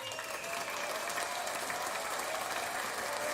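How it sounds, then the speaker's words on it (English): Steady audience clapping and applause, evenly sustained throughout at moderate distance, with no talking over it. "Clap to this, clap to this."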